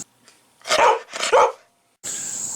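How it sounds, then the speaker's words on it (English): A dog named Stormy gives two loud, close barks in quick succession, each sharp and full, followed after a pause by a steady high-pitched tone. "I should have made that little intro of Stormy barking a little bit longer"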